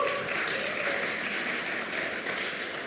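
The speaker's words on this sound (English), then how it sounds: "please give a big round of applause for them and their work" Audience applause for a hackathon team at a blockchain hackathon final pitch event in Stuttgart, a steady, dense clapping from a crowd that holds at an even level throughout.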